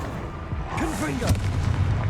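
A Confringo fire spell in the Hogwarts Legacy video game lands as a single loud boom with rolling rumble, a brief voice sounding just before it.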